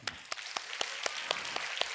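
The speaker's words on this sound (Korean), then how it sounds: "우리 자녀들에게 박수 한번" Rhythmic clapping at a Korean church's Sunday combined service as the congregation applauds the children, about eight sharp claps at a steady pace, moderately close and fairly quiet, with no voices.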